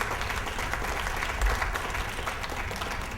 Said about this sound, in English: I'm going to ask everyone if you wouldn't mind joining me in giving our parents a round of applause